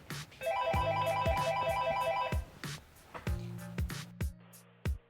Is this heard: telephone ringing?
yes